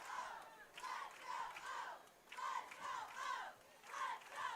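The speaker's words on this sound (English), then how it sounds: "You hear the state champion cheerleaders trying to get the crowd fired up here." Football game crowd at a high school matchup roused by state champion cheerleaders, with rhythmic rising and falling chants and cheers repeating in bursts, moderately distant and echoing through the stands.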